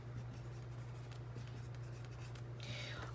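A marker squeaks and scratches faintly across a small desktop dry erase board in short strokes, over a steady low electrical hum.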